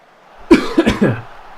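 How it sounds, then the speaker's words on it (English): Three or four rough, close coughs come in a quick cluster, a throaty fit that fades out after about a second. "I have something in my throat, so I might be coughing a bit."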